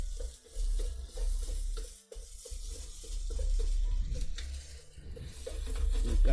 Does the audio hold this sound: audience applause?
no